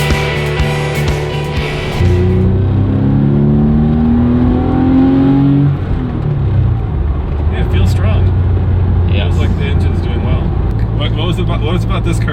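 A Porsche 911 of the 996 generation revs loudly and close, its engine note climbing and falling in sweeping pitch bends before settling into a steady drone, with clicks and mechanical chatter near the end.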